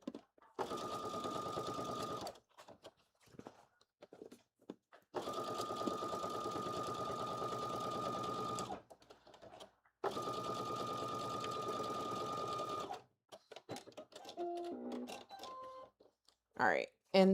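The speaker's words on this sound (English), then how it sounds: "I'm gonna sew up the shoulders first" A sewing machine runs through the shoulder seams of a blazer built from Simplicity pattern 9825, in three steady bursts of about three seconds each with short pauses, followed by brief clicks and handling sounds.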